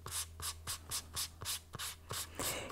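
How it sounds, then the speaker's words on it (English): Light hand sanding across a silver clay earring's rolled edge, about nine short, even rubbing strokes in a steady rhythm, close and quiet with a low hum underneath. "I'm also going to very lightly sand over the top"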